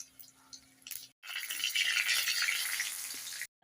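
Cumin, dried red chillies and ginger hit hot oil for a dal tempering, bursting into a loud, dense sizzle that holds steady for about two seconds after some faint clatter, then stops suddenly.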